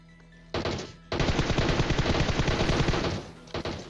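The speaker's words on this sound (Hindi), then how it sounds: "गेम एक्स प्रो ने मार दिया उसे गन से।" Rapid automatic gunfire from a Battlegrounds Mobile India (BGMI) firefight, two dense loud bursts, a short one followed by a sustained rattling stream of shots, then a brief trailing pop.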